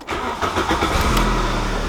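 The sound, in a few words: VW Golf Mk3 manual car engine starting without clutch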